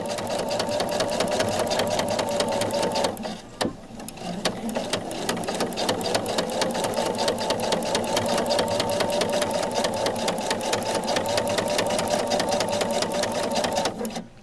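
A sewing machine fitted with a ruffler foot runs fast and close, with a loud rapid mechanical clatter, briefly pausing once before continuing steadily.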